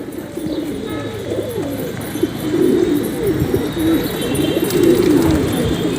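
Pigeons coo close by in repeated soft, throaty rolling phrases that overlap, with faint background noise and no talking.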